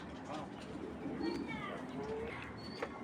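A female racer pigeon gives low, vibrating coos close by against a steady background hum, with a few faint higher chirps mixed in.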